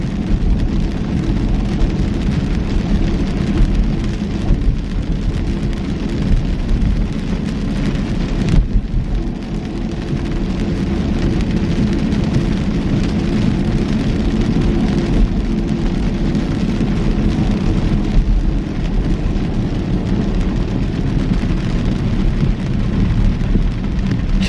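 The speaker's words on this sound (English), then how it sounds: "I didn't even know it was supposed to rain today." Heavy rain falls steadily and loudly on surfaces nearby, with deep thunder rumbling under the constant downpour for the whole stretch.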